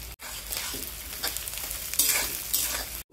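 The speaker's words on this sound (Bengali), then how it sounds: "পুঁটি মাছ ভাজি করব, দিয়ে দিলাম প্রচুর পরিমাণে পেঁয়াজ।" Fresh small puti fish fry with plenty of onion and green chili, a loud, close sizzle with stirring scrapes that swells and eases, briefly dropping out at the start and end.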